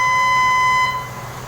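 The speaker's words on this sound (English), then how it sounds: "Sorry if you guys hear that truck outside of this cafe I'm at." A truck's backup alarm beeps outside a cafe, a steady loud electronic tone holding for about a second before cutting off, leaving quieter street background.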